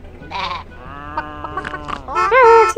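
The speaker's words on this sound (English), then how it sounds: "Let's take the carrots to the sheep." A Lego Duplo sheep toy plays a loud, wavering electronic bleat, a couple of quavering cries, the last one strongest and rising, heard alone.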